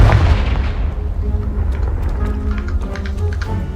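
A Confringo fire spell blasts in Hogwarts Legacy, a loud booming explosion that opens the clip and rumbles on as game noise with faint crackles and debris.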